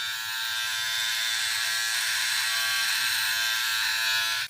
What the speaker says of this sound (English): And I can do some trimming if I want with the OneBlade.